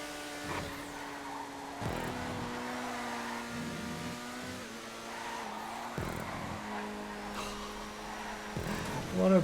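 Race car driven around a GTA 5 track, engine holding a steady whine with gear shifts and revs rising and falling, tires briefly squealing, loud and close with a voice talking over it.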